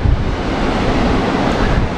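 Red Sea surf washing onto the shore at Marsa Alam, Egypt, a loud, steady broadband roar of breaking waves mixed with gusty wind buffeting the microphone, continuous and close.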